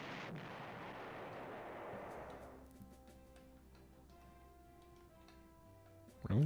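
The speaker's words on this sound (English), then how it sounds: "Let's get our artillery into action here against these enemy artillery" Artillery fire in the retro strategy game Panzer General: a long, rumbling boom that decays over a few seconds, then quiet ticking and soft tones, with a sharp click at the end.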